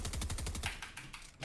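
Rapid SMG fire in the Fortnite battle royale game: a fast burst of evenly spaced shots for most of the second, then sparser, quieter shots trailing off, with no talk.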